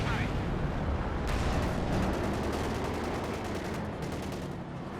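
Dense World War II gunfire from Company of Heroes 2, with rapid rattling bursts and a Panzer IV tank nearby, forming a continuous loud barrage throughout.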